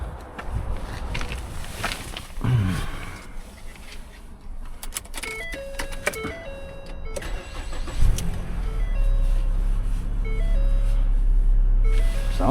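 A 2019 Jeep Wrangler engine with about 5,300 miles cranks and catches around the eight-second mark, then settles into a loud, steady idle after a few seconds of quiet clicks and rustling.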